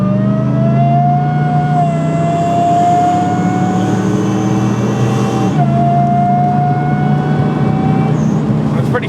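A supercharged Ford Raptor off-road truck accelerates at full throttle, its engine note rising steadily and loud, with a brief dip as it shifts gear and then keeps pulling.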